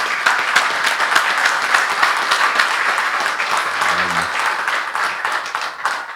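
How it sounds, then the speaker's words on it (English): Sustained audience applause at a clean energy week panel on military energy resiliency, dense steady clapping from a large room that holds for several seconds before tapering slightly, with a brief low voice murmur partway through. "How about a round of applause for the panel here, please?"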